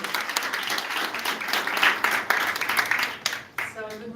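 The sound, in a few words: audience applause for the Croatian Minister of Education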